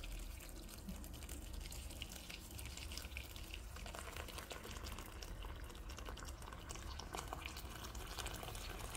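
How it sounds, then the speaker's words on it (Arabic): Hot water poured over trotters and chickpeas being prepared for a Moroccan winter dish of lamb feet, heard as a steady, continuous splashing, running-water rush that carries on unbroken for several seconds without voices. "غادي نمرق بالماء سخون"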